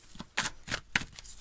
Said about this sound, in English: some viewers like to see just a quick little shuffle through on camera